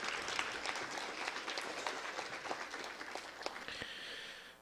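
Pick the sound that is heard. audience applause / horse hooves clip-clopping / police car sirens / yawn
audience applause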